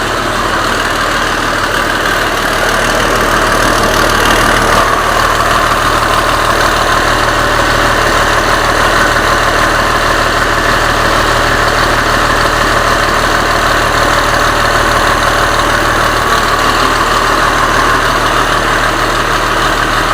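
Turbocharged engine in a 1955 vehicle idling steadily, a loud, constant rumbling drone with a faint whine above it, unbroken for twenty seconds with no talking.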